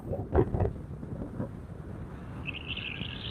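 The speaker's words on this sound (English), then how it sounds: "It's windy, windy," Wind gusting steadily across an outdoor spot with lush greenery in the dry season, a broad rushing noise buffeting the microphone, with a few faint bird chirps near the end.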